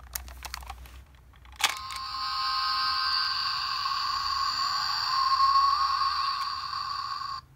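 Ultraman Tiga Black Spark Lens replica transformation toy switched on, giving a few soft clicks and then a bright, sustained electronic tone that swells for several seconds before cutting off.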